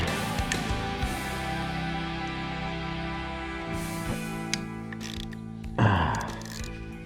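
Handlebar control fittings on a 2021 Harley-Davidson Iron 883 being loosened with a ratchet, close mechanical clicking and tool rattle over a background hum, ending in a louder clunk near the end.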